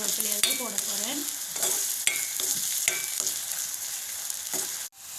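Sliced onions sizzle steadily in hot oil in a pan for a Sri Lankan-style coconut chutney, with repeated scraping and clinking strokes of a spoon stirring them, close and fairly loud; no one talks.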